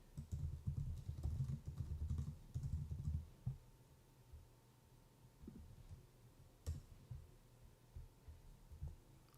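Computer keyboard typing during a live trading session, a burst of quick soft clicks for the first few seconds, then sparser scattered keystrokes over a low hum, close and fairly quiet with no talk.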